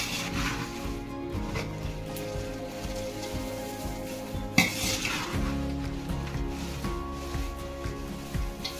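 Fried poha chiwda tossed and turned in an iron kadhai for a Maharashtrian Diwali snack, a steady dry rustle and clatter of flakes against the pan with one sharper knock midway.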